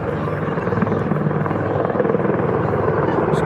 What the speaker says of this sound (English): So hold on, a plane going by,